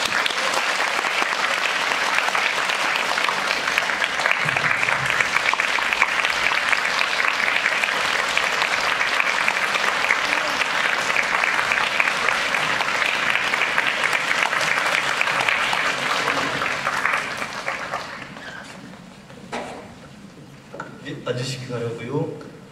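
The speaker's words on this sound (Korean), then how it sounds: "무대로 모시겠습니다. 큰 박수를 부탁드립니다" Long, loud ovation from a film festival audience as guests come onto the stage, dense clapping holding steady for nearly twenty seconds before thinning out, with voices emerging at the end.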